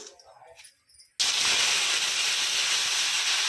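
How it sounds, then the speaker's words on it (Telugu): Soaked, squeezed mint leaves drop into hot oil and set off a sudden loud, steady sizzle and spatter that swamps the quieter kitchen sounds before it. "కొంచెం జాగ్రత్తగా వేసుకోవాలి, ఎందుకంటే నూనె చిక్కుతుంది కదా మీదికి"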